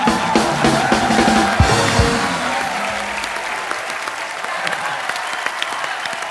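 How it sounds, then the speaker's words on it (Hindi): A studio audience at a television comedy show applauds loudly and steadily for the whole stretch, a dense roomful of clapping that swells at the start and holds, with no speech over it. "एक बार फोर्स 2 की सारी टीम के लिए जोरदार तालियां"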